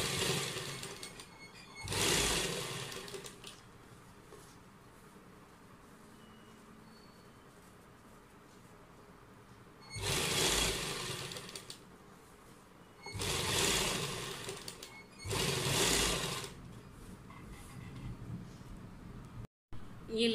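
A sewing machine stitches piping onto a kurta neckline in four short bursts of whirring, separated by quieter pauses, fairly close and without talk.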